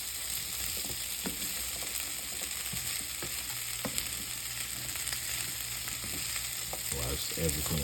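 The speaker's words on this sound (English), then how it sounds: "Now I'm just going to mix in the fresh herbs" Channa frying in a pan with fresh herbs being stirred through, a steady close sizzle with soft scraping and clinking of the spoon at intervals, no voices.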